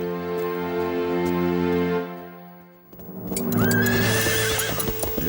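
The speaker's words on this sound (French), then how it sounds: "Saül se lança au triple galop avec son armée sur la route de Damas" Horses neigh loudly and whinny up close, with hooves clattering in a fast gallop beneath, as an army rides out on the road to Damascus.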